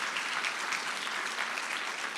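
Steady applause from an audience at a county assembly gathering, a dense, even wash of many hands clapping at moderate distance throughout, with no voices rising above it.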